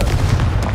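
The Confringo fire spell in Hogwarts Legacy blasting with a short, loud, booming burst, a dense low rumble that fills under a second, close and forceful.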